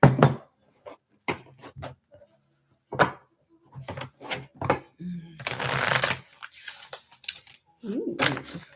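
A deck of oracle cards being shuffled, with irregular riffling and soft slapping bursts close by, interrupted by pauses and some faint talking.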